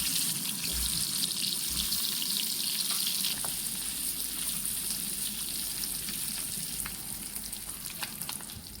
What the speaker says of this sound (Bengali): এই তেলগুলোতে আমি ডিমটা দিয়ে ফ্রাই করে নেব।